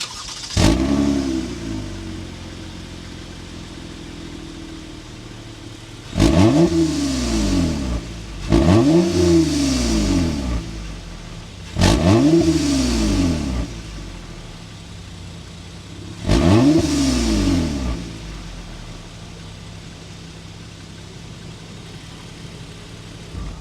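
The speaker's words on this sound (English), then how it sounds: "start it up so you can hear that exhaust note" A 2023 Toyota Camry TRD sports sedan's exhaust revs repeatedly, four or five loud throaty bursts rising and falling over a steady idle, recorded up close.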